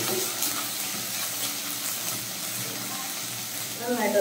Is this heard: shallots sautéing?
yes